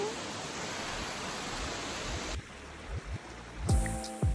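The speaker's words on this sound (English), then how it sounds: "We made it to the waterfall." A waterfall in the mountains near Denver: steady broadband rushing of falling water, loud and constant, cut off abruptly partway through by quieter ambient sound with a few thumps.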